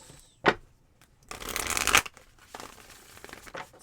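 Tarot cards from a Light Seer's deck are shuffled close by: a sharp snap, then a longer riffling burst, followed by softer sliding and tapping of the cards.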